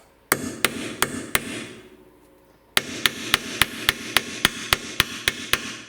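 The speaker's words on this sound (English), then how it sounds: "I'm gonna hammer this other T30 on here and see if that helps." Sharp metallic hammer strikes drive a T27 Torx bit into a fastener on a Saab 9000, in a steady rhythm, four blows, a short pause, then a longer run of evenly spaced taps, close and loud.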